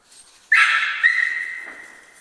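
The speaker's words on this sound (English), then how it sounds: "And Sunny the dog gets quite excited." An excited dog lets out high-pitched whimpering yelps and whines, a sharp cry followed by a second rising whine that trails off, loud and close during an air-rifle squirrel-shooting outing.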